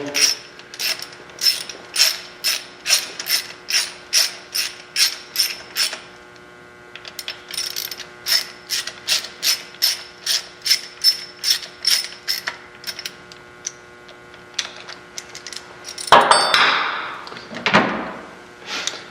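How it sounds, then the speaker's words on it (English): A torque wrench ratchets on the cam bolts of a Harley with a Fuel Moto 107 big bore kit, set to 120 inch-pounds. Loud, rapid, evenly paced clicks come in long runs, then a louder metallic clunk near the end. "I've got my torque wrench preset to 120 inch-pounds."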